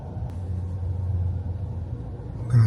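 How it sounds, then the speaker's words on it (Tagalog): Low, steady traffic rumble in a Shanghai jam, engines idling and car noise droning continuously at close range, with a brief louder passing sound at the end. "I've been stuck here on traffic for I think more than 30 minutes already."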